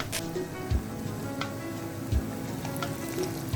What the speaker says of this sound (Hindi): और अब दूसरा भी मैं इसी तरह इसमें ऐड कर रही हूँ ऑयल में, और हम इसे करते हैं फ्राई।